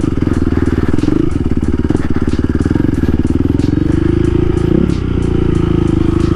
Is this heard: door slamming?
no